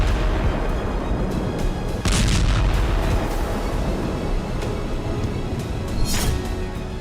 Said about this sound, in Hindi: ये रूस की इस्कंदर मिसाइलों से होने वाले धमाके हैं।